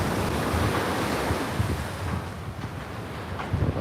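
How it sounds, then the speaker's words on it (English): Wind buffets the microphone on Coney Island beach at night, a dense low rumble blended with rolling surf, constant and loud with no voices. "it's a little windy tonight."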